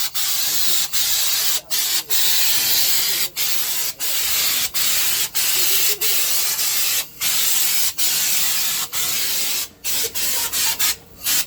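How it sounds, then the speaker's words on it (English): Sharp, regular chopping strikes on stone punctuate a steady hissing background, roughly one blow every second or so, with a quick flurry near the end. "So he's gonna do the stone chopping now."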